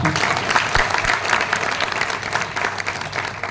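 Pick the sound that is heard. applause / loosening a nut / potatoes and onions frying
applause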